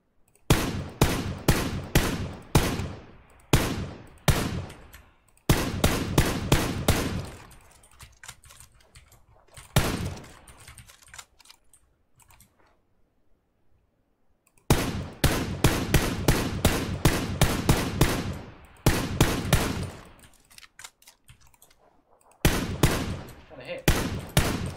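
Gunfire in PUBG, loud rapid bursts of shots in several volleys with short pauses and a quiet gap in the middle, plus a few single shots.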